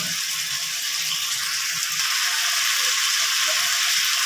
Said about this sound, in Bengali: এবার আমি মাছের মাথাগুলো এর সাথে ঢেলে দিচ্ছি, মানে অর্থাৎ মিশিয়ে দিচ্ছি।